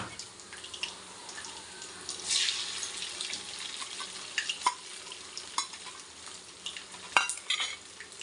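An egg dropped onto sautéed onions and chilies in a pan for egg rice, a soft sizzle under repeated scraping stirs and spoon taps, close, with a brief louder hiss partway through and no talking.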